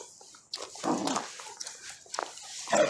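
A dog playing in the snow lets out several short, high whimpers and yips in uneven bursts, fairly close, with quiet gaps between.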